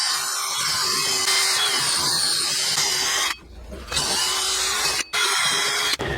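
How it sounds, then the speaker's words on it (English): A wire wheel spinning on a drill scours rust from a truck's rear brake hub, a loud continuous grinding whir that drops out briefly twice as the tool lifts off, with no talking. "So I'm going to clean the rust off of the surface of this hub right here with just a wire wheel."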